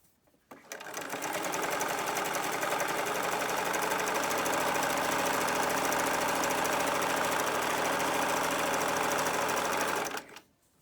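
A sewing machine runs one long continuous stitch along fabric ties for a face mask, starting and stopping abruptly with a loud, close, rapid mechanical whir throughout.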